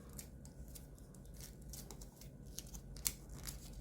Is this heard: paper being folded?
yes